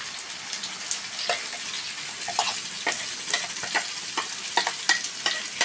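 Masala and brinjals fry in a pan, a steady sizzle broken by repeated scraping strokes of a spoon stirring, close and clear with no talking.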